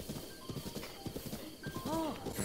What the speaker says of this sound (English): so I gotta ride this horse all the way back